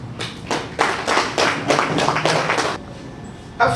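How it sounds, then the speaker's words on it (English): A brief burst of clapping from an audience greets a UNESCO culture expert at a debate event, a loud patter of several hands that swells, holds for about two seconds, then stops abruptly. "Give him a round of applause."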